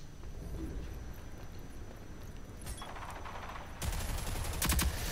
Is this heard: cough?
no